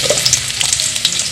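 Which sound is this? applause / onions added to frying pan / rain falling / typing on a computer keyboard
onions added to frying pan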